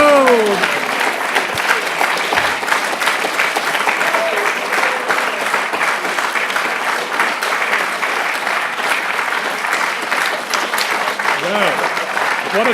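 An audience at a spring awards ceremony claps and cheers for a winner, a dense, sustained burst of applause with whoops, loud and continuous, with a voice faintly audible over it.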